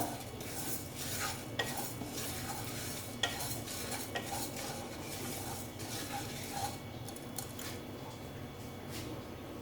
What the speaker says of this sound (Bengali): এটা শুকনো খোলাতে আমি ভেজে নেব এটা আমি আগে ভাজলে ভালো হতো কিন্তু আমি ভুলে গেছি যাই হোক ভেজে নিচ্ছি ডালটা